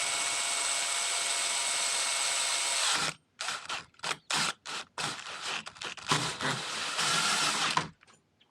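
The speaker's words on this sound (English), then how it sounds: "All right, got my hole drilled." A hole is drilled by hand into a Jeep wheel center cap: a steady whirring grind for about three seconds, then a series of short, choppy drilling bursts with brief pauses, close and fairly loud, with no talking.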